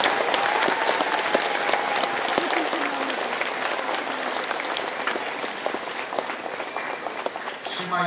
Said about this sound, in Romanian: Haideți să-i aplaudăm așa frumos, ca ei să audă, să le spunem mulțumesc!